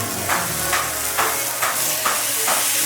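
Steak frying on a hot pan gives a steady, loud sizzle with a few brief bursts of hissing. No one speaks over it.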